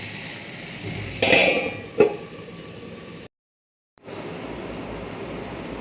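A metal lid is set down on a cooking pan of capsicum and potato curry, giving a sharp clank followed by a second, smaller knock, with a quiet kitchen background and then a brief silence.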